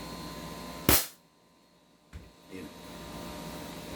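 A Glock replica pistol fires one sharp, loud shot that cuts off abruptly, followed by a short quiet gap and a second smaller click, with room noise around it.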